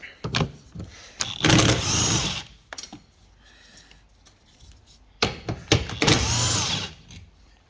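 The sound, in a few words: undoing 12mm bolts with a deep socket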